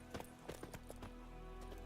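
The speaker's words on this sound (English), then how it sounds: "That's a lovely horse." Horse hooves clip-clop in The Witcher 3 video game, a steady series of distinct hoof strikes over a low ambient rumble, moderately loud and close.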